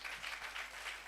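A congregation at a church gathering claps in a short burst of steady, dense applause.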